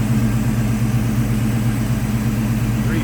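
A 1987 Chevrolet Silverado K10's 350 V8 engine idles nearby with a steady, deep rumble, loud and unbroken throughout.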